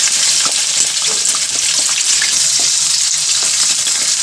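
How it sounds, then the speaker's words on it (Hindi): Chicken liver sizzles and spatters steadily in hot cooking oil in a pan, a loud continuous crackle with occasional small pops and no voices. "1 से 2 मिनट तक इसको फ्राई करते हैं।"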